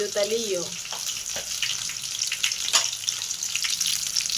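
Fish frying in a pan gives a continuous hissing sizzle of hot oil, close and fairly loud, with a brief clatter near the start and occasional crackles, and no talking.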